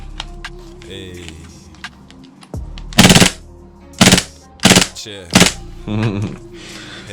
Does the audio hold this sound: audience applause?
no